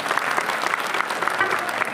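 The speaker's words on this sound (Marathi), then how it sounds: "एकदा जोरदार टाळ्या वाजवा आपल्या स्वतःसाठी" An audience at a village home-game show event applauds in a dense, steady burst of clapping that lasts the whole moment, fairly close and with no speech over it.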